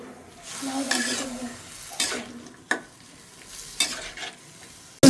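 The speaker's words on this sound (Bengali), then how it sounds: "শাক ভাজি নামানোর পরে লাউ ভাজিটা দিয়ে দিছে" Bottle gourd stir-frying in a pan at home, a steady soft sizzle broken by several scraping stirs of a spatula against the metal, close and fairly loud with no talk.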